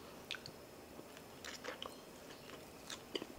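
Sweet potato and kimchi being eaten, with soft crunchy bites and chewing in short irregular bursts, close but quiet, with no talking.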